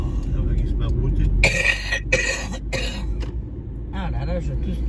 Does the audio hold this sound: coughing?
yes